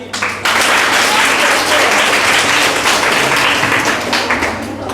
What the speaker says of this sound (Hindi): आप लोग ताली।